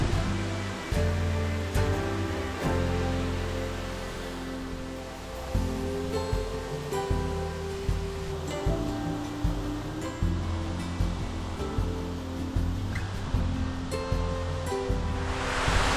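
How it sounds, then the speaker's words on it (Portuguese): A large waterfall in Tocantins, Brazil, gives off a continuous heavy roar of falling water, close and loud, with a low churning pulse beneath the steady rush and no talking. "É realmente imensa essa cachoeira"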